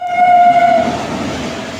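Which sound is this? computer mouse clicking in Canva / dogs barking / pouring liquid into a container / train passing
train passing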